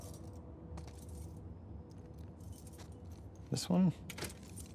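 In The Last of Us Part II, a ring of keys jangles as someone tries them in a lock, with small metallic rattles building to a louder jingling burst near the end, while a voice speaks briefly over a low background hum.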